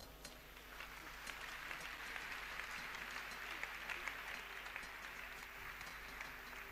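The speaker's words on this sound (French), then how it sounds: "on acclame le Seigneur." A church congregation in Brazzaville applauds the Lord with sustained, dense clapping from many hands. It is distant and fairly faint, with a steady crowd texture and a voice faintly beneath it throughout.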